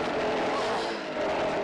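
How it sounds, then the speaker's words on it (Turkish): A motor roars loudly and steadily at close range, a continuous rough engine drone with no pauses. "Bizim Ali'nin motoru çalıştı"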